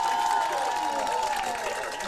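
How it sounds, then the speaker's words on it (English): Football playoff crowd cheering after a holding penalty is called in a high school game, Bishop Hartley versus New Lexington; a steady roar of distant crowd noise with applause-like texture holds throughout, with a faint sustained tone above it. "You can hear the crowd celebrating as the penalty called."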